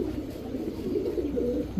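Female green-neck Hungarian high flyer Budapest pigeon cooing, a low throaty rolling coo heard close, steady over soft background noise.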